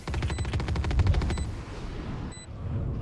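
Rapid automatic gunfire from enemies in the video game Expedition 33, a fast burst of shots in the first second and a half, then scattered rattling and a few further shots, loud and without talk.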